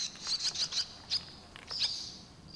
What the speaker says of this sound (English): The swallow calls out in panic.